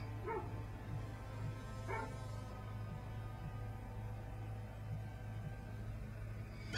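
A dog in the video game Fallout New Vegas gives a few sharp, distant barks spaced well apart, set over a low, constant hum of game background sound.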